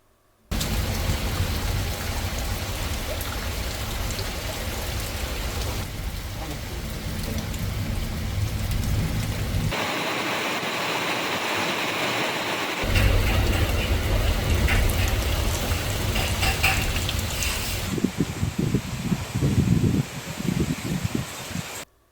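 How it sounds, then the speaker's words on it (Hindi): Heavy rain driven by strong winds falls across the Savli area of Gujarat as a loud, steady roar, with shifting gusty surges and some sharper spattering toward the end. "इलाके में धुआंधार बरसात तेज हवाओं के साथ बरस पड़ी।"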